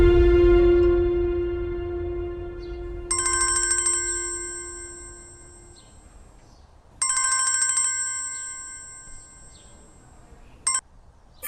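A telephone ringtone sounds in repeated bright electronic bursts, three ringing spells separated by pauses and a short blip at the end, following a fading low musical tone at the start.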